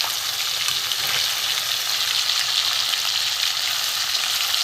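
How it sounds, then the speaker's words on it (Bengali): A loud, even sizzle comes from hilsa fish frying in a pan of oil. It carries on without a break, dense and close, with no voices. "এদিকে বেশ করে ভালো করে ভেজে নেব।"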